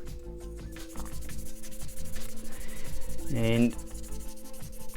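Steady rubbing and scraping of 400-grit sandpaper on a plastic Bandai Round Vernian Vifam model kit, continuous and close, with a brief louder scuff near the end and a single spoken word.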